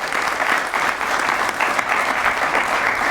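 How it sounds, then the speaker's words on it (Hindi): An audience at a ceremony honoring guests breaks into loud, sustained applause, a dense even wash of many hands clapping with no voices. "आइए मिलके सबके लिए एक बार जोरदार तालियां।"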